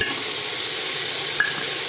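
Crushed raw peanuts frying with a little turmeric in a pan, giving a steady close sizzle with soft stirring scrapes and one brief clink, no talk.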